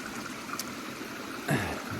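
A Georgia creek runs in a wooded bottom, a steady soft rush and trickle of flowing water at moderate distance, with a brief louder splash near the end and no talking.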